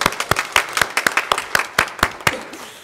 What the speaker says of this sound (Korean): 우리 하나님께 힘차게 영광의 박수 올려드립시다